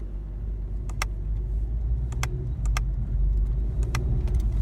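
A 2017 VW Golf R with DSG gearbox hums from inside the cabin with a low steady engine drone, punctuated by several brief sharp clicks, likely from gear changes or switches, as the car drives.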